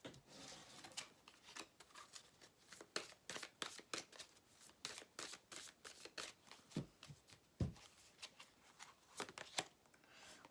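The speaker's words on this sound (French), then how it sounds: "Alors, on va rajouter une carte." Tarot cards are shuffled in quick bursts of crisp riffling and flicking, close and quiet, with short slaps as a card is pulled from the deck.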